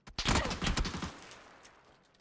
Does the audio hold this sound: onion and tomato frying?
no